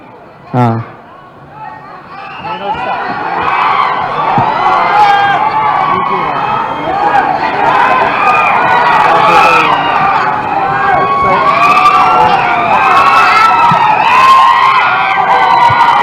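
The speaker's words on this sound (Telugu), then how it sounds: "పిల్లలు పాపం వాళ్ళు అప్పటి నుంచి అరుస్తున్నారు" A crowd of children shouts and cheers at a golden jubilee celebration event, a dense continuous roar of voices with someone speaking over the noise.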